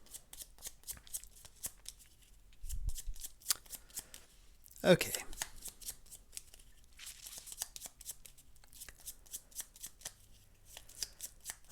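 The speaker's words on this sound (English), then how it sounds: "Shuffle up our deck here." A deck of cards for the Bloodborne board game is shuffled close by in quick, riffling bursts with crisp flicks, over a few seconds. Someone talks briefly in between.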